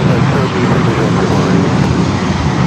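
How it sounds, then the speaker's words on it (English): A Delta Boeing 757 airliner at LAX, a loud sustained engine roar with deep rumbling low end, steady and close as it passes. "up next, we have a Delta 757 at 200"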